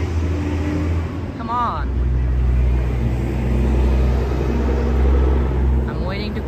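A loud truck rumbles steadily on a busy New York City street in Manhattan, its deep, continuous engine drone filling the scene while a person speaks briefly over it nearby.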